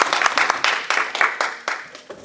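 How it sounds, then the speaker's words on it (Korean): A small group in a church preaching class gives encouraging applause, a short burst of uneven, fairly close claps that thin out and stop after about two seconds. "우리 한번 박수를 격려해 주시죠."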